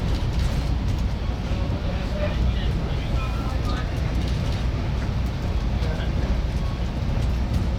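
Steady, dense rumble and rattle of a Conway Scenic Railroad train rolling along the rails through swampy country, continuous throughout with faint voices mixed into the background.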